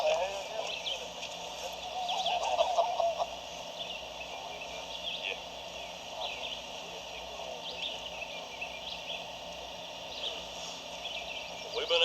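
A wild turkey gobbles faintly in the distance during a hunt, with a brief rattling gobble early on under a steady wash of insect and cricket noise; people speak quietly nearby.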